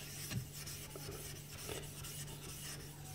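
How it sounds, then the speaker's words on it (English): A 91 cleaning stone rubs back and forth across a 6000-grit Morihei whetstone, a quiet close rasping scrub in steady strokes with no talk. "I'll try with the"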